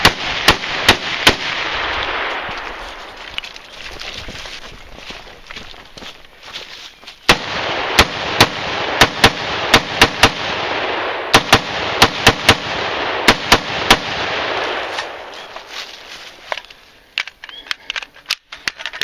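Rapid gunfire from a defensive shooting drill: sharp, loud shots cracking in irregular clusters and quick strings over steady background noise, with voices talking between volleys.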